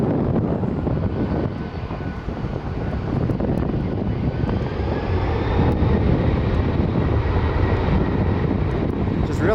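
A heavy jet airliner departs runway 24 right at Cleveland Hopkins, its engines making a loud, steady roar that holds for several seconds with some wind buffeting on the microphone.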